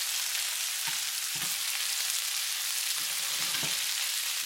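Beef browns in a hot pan for a cumin beef stir fry, giving off a steady, fairly quiet sizzle broken by a few soft knocks and scrapes as the meat is stirred around.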